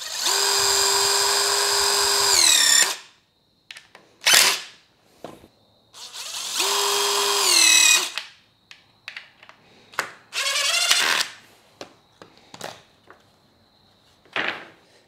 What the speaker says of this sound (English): I have my compact driver that I'm just going to quickly drill these guys in